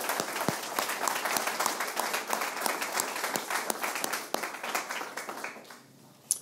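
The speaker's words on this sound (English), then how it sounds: "One more round of applause for everyone who presented today" Applause from the crowd at a bootcamp demo day, honoring the day's presenters: many sharp, close claps in a lively, busy patter that thins out and fades near the end.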